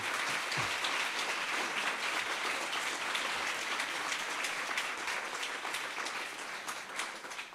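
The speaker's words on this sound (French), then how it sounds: "Je vais vous laisser applaudir, c'est mérité." An audience at a 2023 conference in Occitanie gives sustained, even applause. The full crowd clapping fills the room from start to finish, with no one speaking over it.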